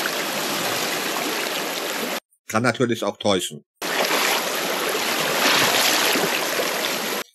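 A clear mountain river flows steadily with a loud, broadband rush from its current, briefly interrupted while someone speaks in German, then resuming just as strongly.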